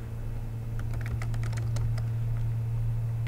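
Computer keyboard typing during a Google image search: quick, uneven key clicks in short bursts over a steady low electrical hum, close and fairly quiet, with no voices.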